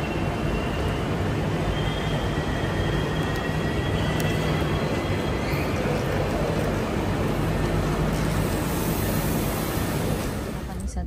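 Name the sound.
train in Belgium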